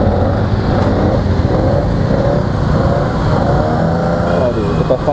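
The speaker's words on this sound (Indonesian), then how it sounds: "itu Vespa kenapa men? Tadi gerung-gerung kayak gitu" A Vespa scooter revs loudly in busy road traffic, its engine note rising and falling in a throaty drone that stays close and prominent while voices talk over it.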